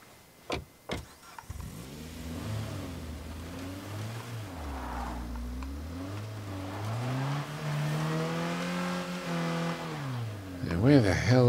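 Car engine in the State of Decay 2 video game, with a few sharp door or impact thuds at the start, then the motor revving and shifting pitch as it drives, ending in a louder burst.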